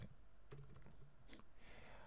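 Rapid key clicks from a computer keyboard come in short bursts, loud and close, with no voices over them.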